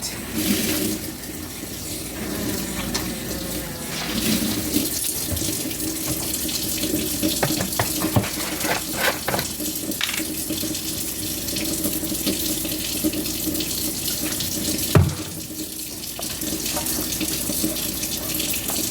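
Hot water runs steadily from a kitchen tap into a sink, a continuous close splashing rush throughout with a brief thud near the end.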